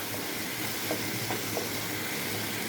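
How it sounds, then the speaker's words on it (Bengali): Spices being stirred and fried in hot oil, a steady dense sizzle with a few faint scraping strokes of a spatula, close and continuous with no talking. "নাড়াচাড়া করতে থাকবো যতক্ষণ না মশলাটায় তেল আসে"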